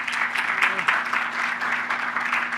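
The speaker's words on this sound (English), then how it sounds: "And a big round of applause for Angela." Audience claps after a conference talk, a moderate, fairly even patter of applause lasting a few seconds, with faint voices mixed in.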